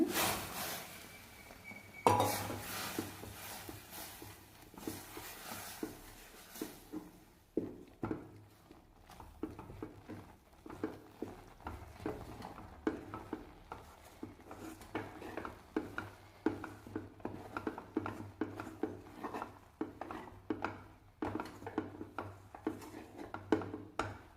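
Repeated scraping and clacking of a utensil stirring rice flour into boiling water in a pot, a thick mixture, steady rhythmic strokes close by, no talking.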